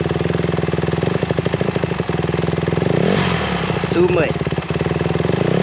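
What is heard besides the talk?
dirt bike engine revving with throttle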